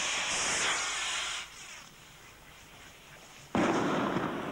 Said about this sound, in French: La première fusée indiquait le début de l'expérience.